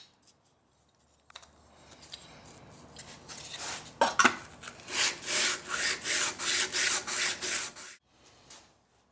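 A card scraper edge is jointed with a file or honing stick in a series of rhythmic rasping strokes, faint at first and then about eight steady, evenly spaced passes near the listener.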